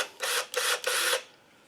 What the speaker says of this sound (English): we're going to drill a hole all the way through the shell